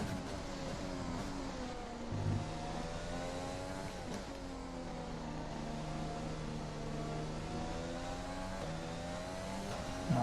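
A 1988 McLaren Formula 1 engine in the F1 2020 racing game screams loudly and steadily, its revs rising and falling through gear changes as the car is driven hard around a circuit, with no talk over it.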